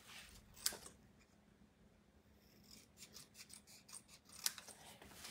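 Paper being cut with scissors while crafting an embossed coneflower birthday card, two sharp snips standing out over soft rustling and rubbing of paper, fairly quiet and close with no talking.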